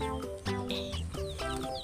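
Busy chorus of chicken clucks and short cackles layered over a steady electronic backing tune, bright and close with repeated rhythmic notes.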